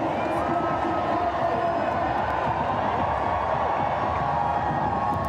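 A crowd of about 10,000 cheers from the shore at a Red Bull Cliff Diving World Series event in Boston Harbor, a dense, continuous roar of voices and shouts heard from a distance.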